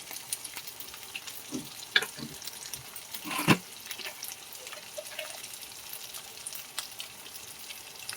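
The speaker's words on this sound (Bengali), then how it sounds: "এই মশলাটা ভালো করে কষিয়ে নেব।" Spices, including turmeric, chili powder and salt, fry softly in a pan while being stirred for a Bengali chicken dish with Malabar spinach; faint sizzling runs under scattered scraping and clinking from the spoon, with one louder clatter midway.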